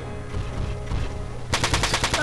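Rapid video-game gunfire bursts out in a sharp repeated volley during the second half, loud and close, following a stretch of busier in-game background sound.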